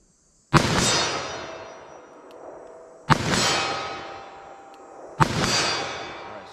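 Three loud .44 Magnum revolver shots fired outdoors at a target 40 yards away, each a sharp crack followed by a long rolling echo, spaced about two and a half seconds apart with no talk.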